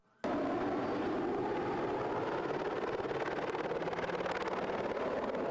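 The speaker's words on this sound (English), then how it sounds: "Helicopter chasing him up the hill as well, which you can probably hear in the background." A helicopter chasing a two-litre turbocharged race car up Pikes Peak during the hill climb drones steadily in the background, a continuous rotor and engine wash that starts abruptly and holds at a moderate level.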